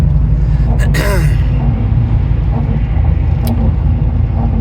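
A heavy 6.6-litre GMC pickup truck engine rumbles steadily and close up under road noise while towing a Big Horn fifth-wheel trailer in 8th gear, with a brief voice near the start and a short click later.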